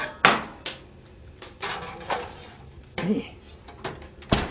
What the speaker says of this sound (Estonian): ja nüüd ta läheb meil ahju 250 kraadi